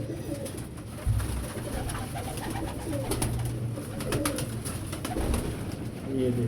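Pigeons coo nearby in a soft, repeated, throaty rhythm, along with wing rustles and handling noises and a faint voice in the background.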